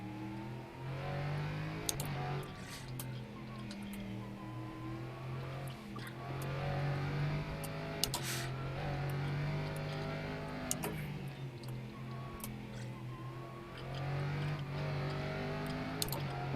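Simulated LMP3 prototype race car engine in rFactor 2 at Mid-Ohio, a steady loud drone with shifting revs and harmonic whine throughout, a few brief clicks over the continuous engine note.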